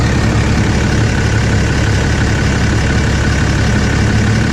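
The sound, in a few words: Cummins diesel engine idling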